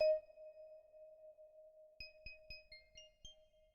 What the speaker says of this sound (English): We're really just hearing the sine waves.